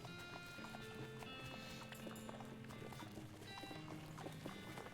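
Horses in the video game West of Loathing make steady, rhythmic clip-clop hoofbeats with game sounds layered underneath, close and continuous, with a voice occasionally audible.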